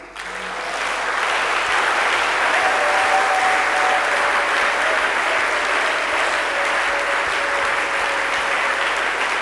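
A church congregation at a community thanksgiving service breaks into loud, sustained applause that swells quickly and holds steady for several seconds, with a faint crowd murmur underneath.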